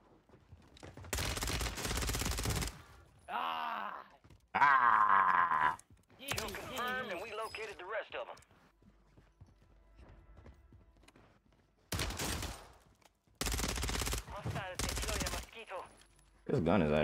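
Rapid bursts of ISO 9mm submachine gun fire in Warzone 3 come in several separate volleys, loud and close, broken by short pauses with brief game sounds between them.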